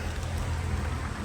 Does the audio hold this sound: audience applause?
no